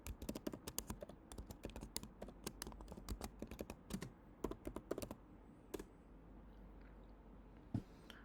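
Rapid, irregular typing on a computer keyboard during a Metasploit ethical hacking session, with dense clusters of sharp key clicks and brief pauses, close and clear with no talking.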